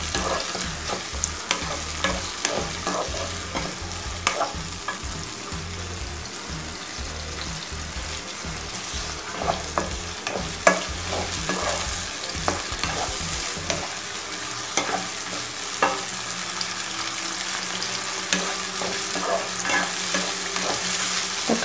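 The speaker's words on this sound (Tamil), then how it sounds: "இப்போ தக்காளி நல்லா வதங்கட்டும்." Chopped tomatoes sizzle steadily in a hot pan for egg kurma as a spoon scrapes and stirs them in frequent rhythmic strokes, the frying loud and close with no voices.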